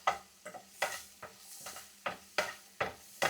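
Carrots and green peas frying in ghee are stirred in a pan, giving about nine evenly spaced scraping strokes over a soft sizzle, close up and quiet, with no talking.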